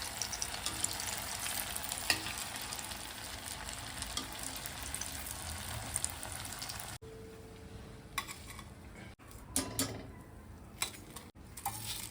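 Crispy spinach cheese rolls frying in hot oil, a loud steady sizzle that fills the first half, then quieter bubbling broken by a few sharp clinks and stirring sounds.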